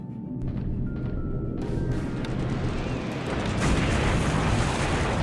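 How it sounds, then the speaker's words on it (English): Torpedo striking a Dutch cruiser in a naval war game, heard as a sustained, rumbling explosive roar that is loud and continuous, swelling further near the end, with faint tonal whines early on. "Betty puts a torpedo into a Dutch cruiser."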